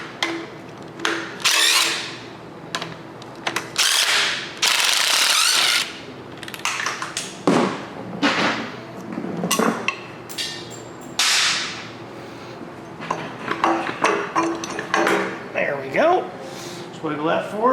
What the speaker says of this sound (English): And we can remove these top bolts